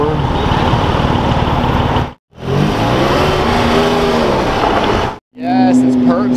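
A BMW E60 V10 engine revs hard close by in loud, sustained bursts broken by two brief cuts, with rising and falling pitch; people talk excitedly over it near the end.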